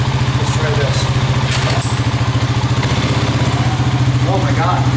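A rebuilt Honda Rancher 350 ATV engine running close by with a loud, steady, rhythmic pulsing chug as the throttle is cracked, with voices talking over it.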